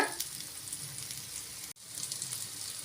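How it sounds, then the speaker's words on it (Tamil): Spice masala for an aloo methi dish sizzling as it is sautéed in a pan, a steady close crackle and hiss that briefly drops out for an instant partway through, no talk. "மசாலெல்லாம் பச்சை வாசனை போய் நல்லா வதங்கிடுச்சு"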